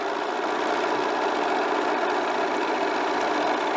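A sewing machine stitches quilt squares together for a sampler block, giving a steady, even mechanical hum that runs close and unbroken throughout.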